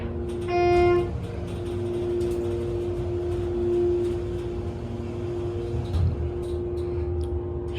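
A Schindler HT 321A hydraulic elevator motor runs with a steady, low, droning hum, continuous and moderately loud. A brief higher tone sounds near the start, and faint background noise stays underneath.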